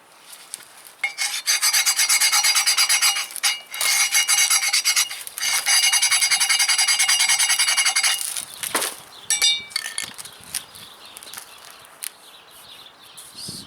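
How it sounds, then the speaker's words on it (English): A hand file rasps against drum brake parts in steady back-and-forth bursts, loud and close, with short pauses between runs of strokes before the scraping tapers off into scattered quieter strokes. "If sandpaper is not enough, take a file."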